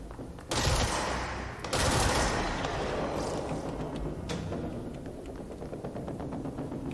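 Sustained gunfire in the action game Control, loud bursts of rapid shots with heavy impacts, continuous and dense across the whole stretch with no talking.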